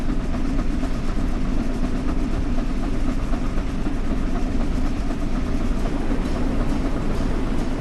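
Flying Scotsman steam locomotive at full throttle in Train Sim World, heard from the cab as a constant loud roar with fast, even beats and track clatter, without talk.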